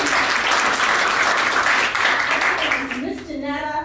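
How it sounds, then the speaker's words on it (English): An audience at a motivational speaking event applauds loudly and steadily, then the clapping fades as a speaker's voice takes over near the end. "Give yourselves a round of applause."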